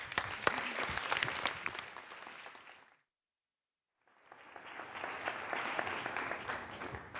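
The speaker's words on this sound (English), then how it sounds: "Let's give him a round of applause" A conference audience applauds a guest speaker after his introduction, steady clapping that breaks off into a second or so of silence before a fresh round swells up again at similar strength.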